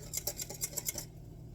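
A utensil stirs jello mixture in a bowl, giving a quick series of light clinks and scrapes in a brisk rhythm before the sound stops.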